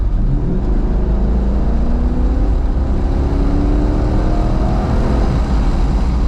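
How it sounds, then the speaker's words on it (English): Loud, close roar of a naturally aspirated 2000 Chevrolet Corvette C5 with a 4-speed automatic accelerating hard after a kickdown, its engine note climbing steadily and droning on throughout with no break. "The kick down from a 4-speed is not that bad."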